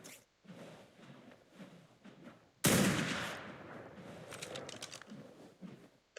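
A single loud gunshot from a rifle firing tranquilizer rounds at a parasaur in Ark: Survival Evolved, followed by a short cluster of smaller cracks over quiet game ambience.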